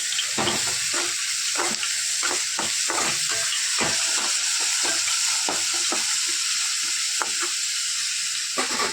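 Cumin seeds frying in hot oil in a home kitchen for a spinach stir-fry, a steady close sizzle and hiss with scattered crackles and pops throughout, no talking.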